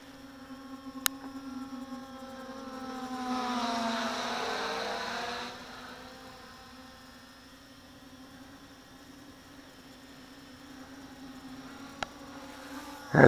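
An XK X350 Dancer stunt drone flies outdoors with a steady, insect-like high whine from its rotors. Midway the pitch and volume swell as it passes overhead, then the whine settles back to a constant hum, with a couple of sharp clicks.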